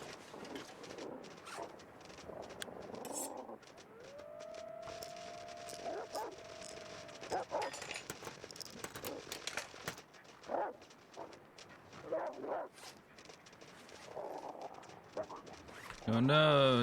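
Dogs bark in The Long Dark survival game, a few scattered bright yips set among game ambience with steady talk over most of it and a loud burst near the end.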